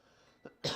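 Two quick coughs close up, a small one followed by a louder, harsher one, against quiet background.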